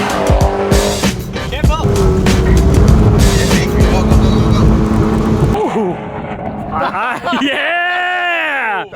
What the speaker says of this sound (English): First burnout of the day, 11 people down.